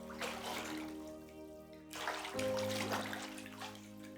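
Clean warm water poured and running steadily over a kitten's shampooed fur in a bath, a soft continuous splashing trickle with a brief shift in flow midway.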